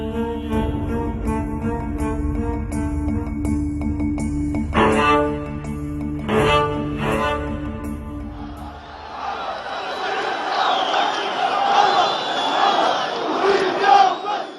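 A large crowd of Gaddafi's supporters in Libya, loud continuous chanting and shouting with music at first, then a roaring mass of voices and cheers.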